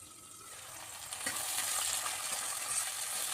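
Onions frying for chicken kosha in a covered pan give a steady, close sizzle that swells into a fuller hiss after a brief clink of stirring. It stays moderately loud and even, with no voices.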